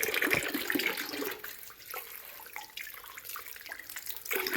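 Running water splashes steadily at a hill temple, used for washing feet; a fairly close, continuous wash that is loudest in the first second and then settles into a softer, even flow.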